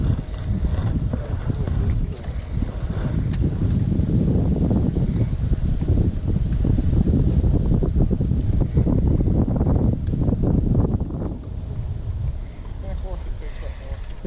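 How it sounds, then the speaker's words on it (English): Strong, gusty wind buffets the microphone throughout while bass fishing from a boat, a constant low rumbling roar with no break. "right now is when I need that wind to quit"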